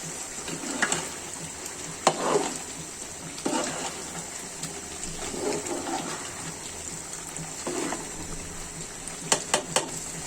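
Chicken curry sautés in a pan as a steady, soft sizzling hiss, with occasional light clinks and scrapes of stirring against the pan.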